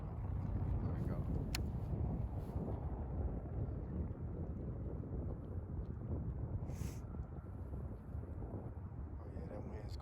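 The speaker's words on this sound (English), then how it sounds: "that wind's going" Gusty wind roaring against the microphone outdoors beside a pond, a steady low rumble throughout with some faint background sounds.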